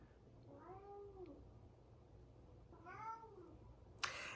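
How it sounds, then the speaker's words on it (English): Two cats meow indoors, giving two drawn-out meows separated by a pause, fairly quiet and alone, followed by a brief sharp click at the end. "My cats are going crazy."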